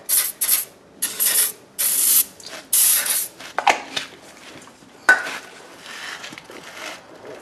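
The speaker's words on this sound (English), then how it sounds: "A little bit of brake clean, spray it down." Several sharp hissing bursts from an aerosol can of brake cleaner sprayed on the rear brakes of a 2003 Chevrolet Impala, short and uneven, followed by clinks of metal parts and a softer lingering spray.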